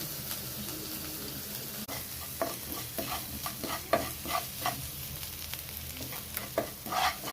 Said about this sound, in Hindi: अब मैंने जो मसाला पीसा था मैं उसे अब इसमें डालूंगी।